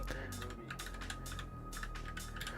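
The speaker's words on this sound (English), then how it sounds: "I keep typing in blockies instead of drop." Fingers tap rapidly on a computer keyboard, with quick bursts of clicky keystrokes separated by short pauses, close and fairly clear.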